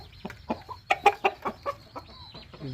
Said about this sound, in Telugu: ఇది నాటుకోడి పుంజు.